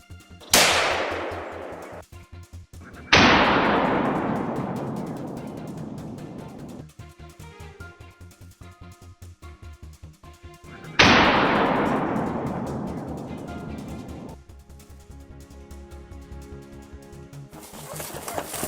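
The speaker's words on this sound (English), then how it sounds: "I'll fire a few more shots to take it down immediately" Gunshots aimed at a wild boar outdoors, several loud sharp blasts at uneven intervals, each ringing out and fading with a long decaying tail, with quieter gaps between.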